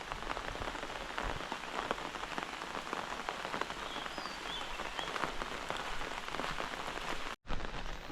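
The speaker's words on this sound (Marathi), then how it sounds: "पाऊस आला आहे" Steady unseasonal rain in Konkan patters densely on surfaces nearby, an even, continuous downpour with a brief cut-out near the end.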